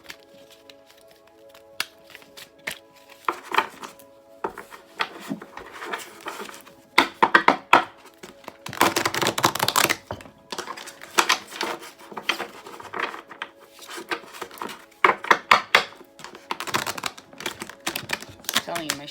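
Tarot cards shuffled by hand in irregular bursts of crisp riffling and tapping, close and moderately loud, with pauses between the bursts.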